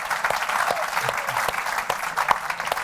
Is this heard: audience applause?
yes